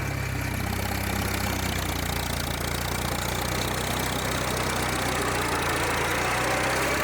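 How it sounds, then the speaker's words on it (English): A 1938 Farmall F-20 tractor engine running in road gear, a loud, continuous, rough mechanical roar with dense rattling and knocking, close and unbroken throughout. "Now we are in road gear. Road gear sounds like it's going to explode"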